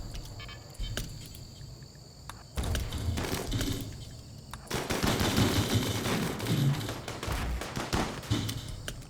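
Guns firing steadily at a barricade in RimWorld: rapid, crackling bursts of shots that build from sparse pops into dense, continuous firing, moderately loud, with insect-like chirping in the background.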